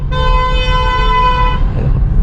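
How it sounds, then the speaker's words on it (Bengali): A car horn gives one loud, sustained blast of about a second and a half on a crowded road, close by over low traffic rumble. "পেছন দিক থেকে একটা পাগল হর্ন দিতে দিতে আসছে"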